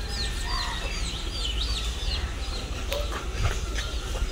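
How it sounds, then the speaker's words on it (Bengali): Chicken chicks cheep in short, high, scattered peeps among a busy outdoor village background with low rumble. "কি সুন্দর মুরগির বাচ্চা"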